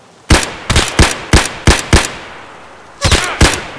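Gunfire in Escape from Tarkov, a close burst of six sharp shots in quick succession, a short pause, then two more loud reports.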